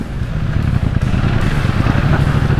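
An adventure motorcycle engine churns steadily on a climb, a loud, close, rough mid-pitched drone with no clear rev peaks across the short stretch.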